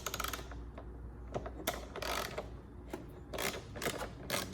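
A ratchet loosens a 10mm bolt on the air filter box of a 2013 Toyota Highlander V6, giving close, crisp clicking in short bursts separated by brief pauses.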